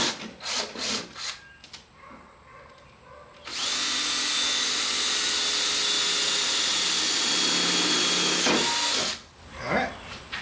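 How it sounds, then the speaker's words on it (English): A power drill whirs steadily for several seconds at close range, drilling holes in a Jeep JK door, with brief clicks and handling noises before and after. "for marking for you to drill your holes"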